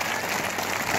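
A crowd at a welcome ceremony for a politician in Nalanda, India, applauding in a dense, continuous wash of clapping that fills the moment, with no voices over it.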